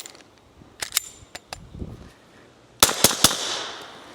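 Suppressed pistol shots from a Silencer Central Banish 9K firing premium ammunition: a few scattered sharp cracks, then three quick louder reports close together near the end, with no talking.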